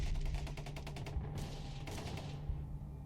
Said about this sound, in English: And that's when the soldiers opened fire.